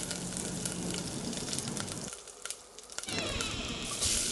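Mustard seeds, urad dal and curry leaves crackle and sizzle loudly in hot oil, a steady broadband spatter that dips briefly midway and then flares up again.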